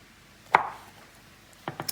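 A knife chopping leeks on a board: one sharp chop followed after a pause by a quick cluster of three lighter cuts, close and otherwise quiet.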